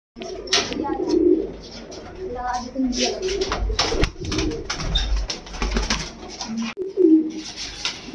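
Madrasi pigeons coo in low, throaty bursts nearby while people talk over them throughout.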